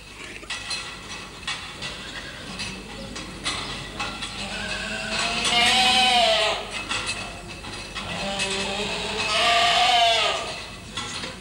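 Young goats at a feeding stall with a milk bucket feeding teats bleat loudly, two long wavering cries rising over a background of clattering and shuffling in the barn.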